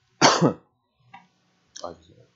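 A harsh cough, then a brief pause and a rougher throat-clearing sound, close by.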